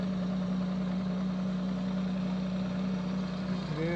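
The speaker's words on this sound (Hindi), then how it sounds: "गड्डी होगी स्टार्ट, गेयर ओके" A Maruti Suzuki Alto car engine idles steadily at close range, a constant low hum with no starting sound evident and no talk.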